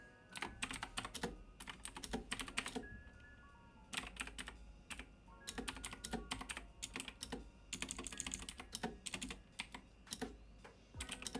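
Rapid bursts of typing on a computer keyboard as a chat message is entered, dense clusters of crisp key clicks broken by brief pauses, steady and close at moderate volume, with no talking.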